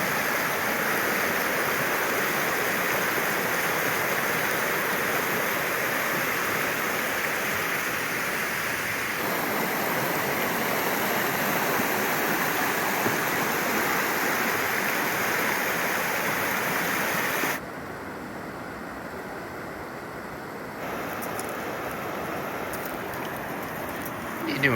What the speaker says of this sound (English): making our way to the river, the Dungeness River.